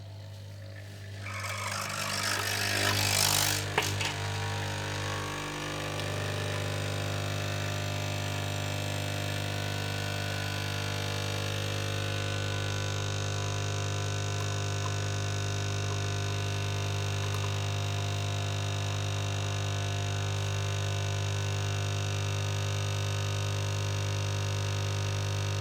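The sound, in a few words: Nespresso Essenza Mini C30 brewing a lungo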